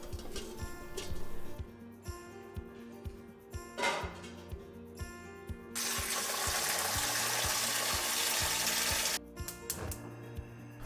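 Water runs from a tap into a pot of eggs, splashing unevenly at first, then pouring in a loud steady gush before cutting off, with clattering between.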